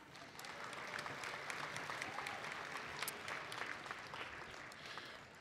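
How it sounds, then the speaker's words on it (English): An audience at a youth conference applauds a sponsoring bank, a dense, sustained wash of clapping that holds steady for several seconds with no voices standing out. "let's give Chemical Bank a round of applause"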